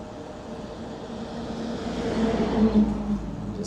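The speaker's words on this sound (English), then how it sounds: "Yeah, a lot of cars." Road traffic passes during an evening ride on a Euphree Stellar Falcon e-bike, a steady broadband rush of cars swelling slightly as one goes by, with continuous wind and tyre noise underneath.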